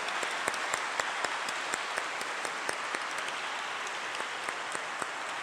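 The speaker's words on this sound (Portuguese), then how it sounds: "Dá uma salva de palmas para a professora" Congregation in a church claps for the teachers, an even, moderately distant wash of applause with occasional sharper individual claps standing out, steady throughout the few seconds.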